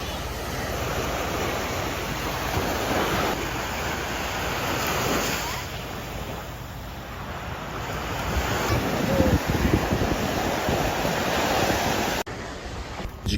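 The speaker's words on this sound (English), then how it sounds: "Listen to the rhythmic roar of the ocean." Atlantic surf rolls continuously onto a beach at Blowing Rocks Preserve in Jupiter, Florida, a steady broad roar with rising and falling swells, wind buffeting the microphone and no talk.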